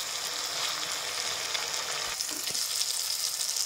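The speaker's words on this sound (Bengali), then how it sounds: "মশলা ঘন ঘন নাড়াচাড়া করে একদম ভালো করে কষিয়ে নিতে হবে।" Spice masala sizzling and frying in hot oil for a Bengali tel koi fish curry, a steady dense crackle throughout with brief scraping stirs near the middle, close and alone with no talk.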